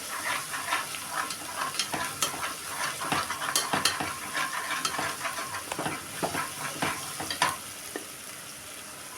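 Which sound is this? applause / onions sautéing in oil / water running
onions sautéing in oil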